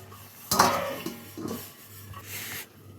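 A metal lid clanks down onto a pan of sautéing chicken in one sharp, close knock, and softer rattles and scrapes follow as it settles, over a low kitchen hum.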